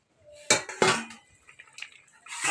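A metal lid comes off a cooking pot of stinging nettle leaves, giving two loud, close clanks of metal on metal, then softer scraping and light clinks.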